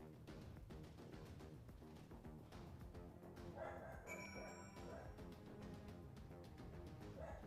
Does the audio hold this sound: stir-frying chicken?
no